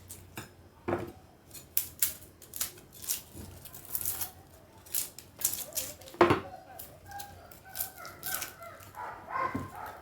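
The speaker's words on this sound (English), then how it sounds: "I just cut the edges and the onion." A knife cuts the edges off an onion on a board for fish pepper soup, giving a string of sharp, close chopping taps with brief pauses between them and no talking.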